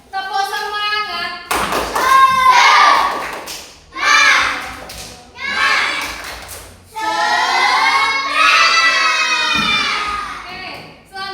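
Children doing a rhythmic spirit clap chant in a classroom, loud bursts of shouted chanting and clapping in several phrases separated by short pauses.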